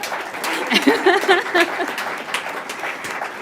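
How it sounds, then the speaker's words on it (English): Applause at a school district governing board meeting honoring a scholarship winner, moderate clapping from the room with a few brief voices and exclamations rising over it. "So applause."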